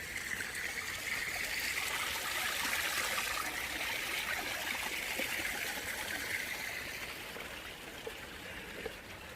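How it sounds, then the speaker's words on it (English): A small stream in Fletcher Moss Park trickles and babbles steadily, a continuous bright watery wash at moderate distance that softens slightly toward the end, with no voices. "There's this little stream."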